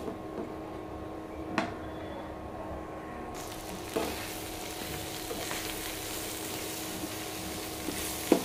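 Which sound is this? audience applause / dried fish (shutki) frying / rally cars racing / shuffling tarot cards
dried fish (shutki) frying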